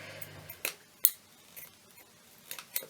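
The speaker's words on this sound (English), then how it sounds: "Let me get other scissors." Scissors snip a piece of ribbon in a few sharp, close clicks spaced irregularly, with quiet pauses between cuts and faint handling noise.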